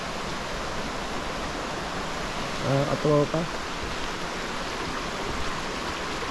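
Water rushing steadily at Gabur Gabur Falls in Peñablanca, Cagayan, a broad constant roar from start to finish, with a short burst of voices near the middle.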